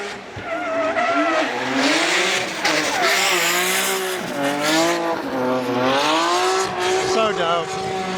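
A BMW drift car at Formula Drift Japan at Fuji during qualifying, its engine revs rising and falling in loud wailing sweeps mixed with tire squeal as it slides through a corner nearby.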